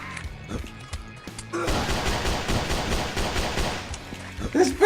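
Rapid bursts of pistol gunshots from the dinosaur-hunting video game Dino Hunt, loud and repeated in a dense volley for a few seconds after a quieter start.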